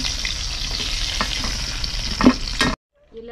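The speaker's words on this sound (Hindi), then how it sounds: "इसको निकाल लेते हैं कढ़ाई में से, तड़का लगाएंगे।" Steady loud sizzling of spices tempering in hot oil in a kadhai for a garlic dish, crackling continuously for a few seconds before cutting off abruptly.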